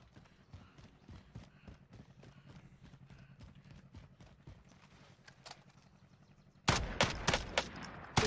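Warzone gunfire rattles in quick bursts of steady clicking shots, faint at first, then a sudden loud, dense volley near the end.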